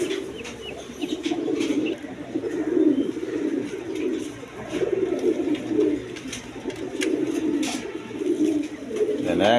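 Big-sized pigeons for sale coo continuously in low, throaty bursts, a close chorus of overlapping calls with a few sharp clicks and knocks.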